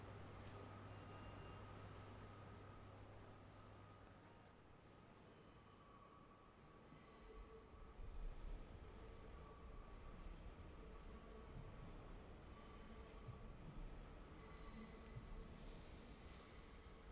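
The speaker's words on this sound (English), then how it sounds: "we can hear the soundscape, the very quiet soundscape of a deserted Amsterdam train station" Very quiet ambience of a deserted Amsterdam train station: a faint hiss of room tone with soft distant rumbles and a few brief high metallic squeals, like train wheels or brakes far away.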